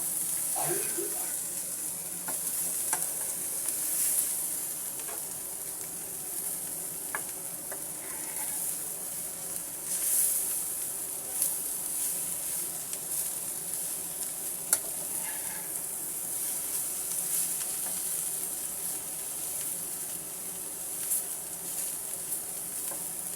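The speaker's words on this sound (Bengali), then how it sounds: "জিরা গুঁড়ো এবার আমি একটু নেড়ে দেবো" Tilapia fish fries in oil with a sprinkle of cumin powder while a spatula stirs, a steady sizzle broken by clinks and scrapes over some twenty seconds, at moderate volume.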